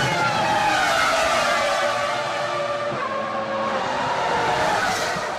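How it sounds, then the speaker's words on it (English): Formula 1 cars of the 2005 season roaring at a race start, a dense, continuous wash of engine and tire noise that stays loud and steady throughout, with no voices over it. "The green light to start racing has been given."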